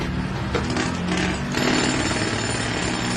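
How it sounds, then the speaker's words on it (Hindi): A man breaks stone with a drill in a coal mine, giving a loud, continuous hammering rattle that surges and roughens partway through and keeps going to the end. "एक आदमी ड्रिल लिए हुए पत्थर तोड़ रहा था"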